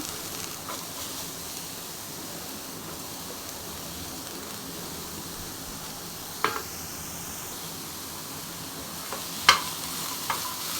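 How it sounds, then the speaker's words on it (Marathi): Cluster beans dry roasting in a pan over a low gas flame with no oil, a soft steady hiss with a few light clicks of stirring, alone and fairly quiet. "छान अशी बारीक गॅसवरती तिला छान असे भाजून घ्यायचं"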